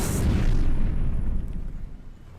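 Power bomb explosion in Metroid Other M, a loud deep boom with a bright burst at the start, rumbling and fading over a couple of seconds.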